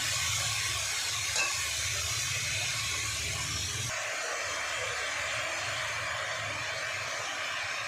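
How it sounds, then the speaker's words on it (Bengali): Banana stem (thor) frying in a pan, a loud continuous hiss and sizzle that holds steady throughout, close up with no voices. "দেখো থোড়টা আমি কীভাবে ভাজছি"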